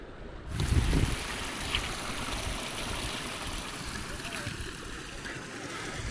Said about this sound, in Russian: Переходим через ручей.